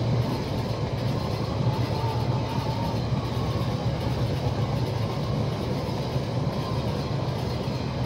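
Steady rumbling and clattering of a train rolling along rails in the model railway game Rolling Line, a continuous, even roar that holds for the whole stretch without a break.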